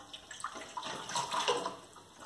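Water from cups is poured onto a wetland model, giving a soft, quiet splashing and trickling for a couple of seconds.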